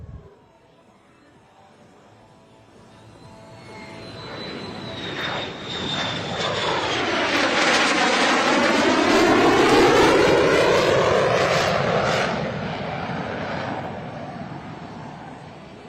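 An F-35 fighter jet roars past at an air show, a loud broadband engine rush that swells from a distant whine into a near, sweeping pass, with a shifting Doppler rumble and hiss before easing off.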